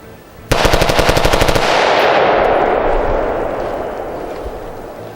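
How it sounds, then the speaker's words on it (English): Rapid burst of bump-fired gunfire from an SLF 15 AR-15 rifle with a polymer lower receiver, about a dozen close, loud shots in quick succession followed by a long fading echo. "See if I can't bump fire it a little."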